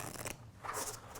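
A deck of playing cards shuffled in a professional poker dealer's shuffle, two quick riffling bursts of crisp papery flutter separated by a short pause, close and fairly quiet.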